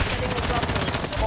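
Rapid gunfire in a squad-based shooter video game, a dense unbroken rattle of automatic shots that fills the whole short stretch at steady loudness.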